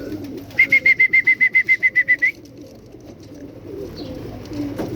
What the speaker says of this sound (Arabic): جت الطيرة.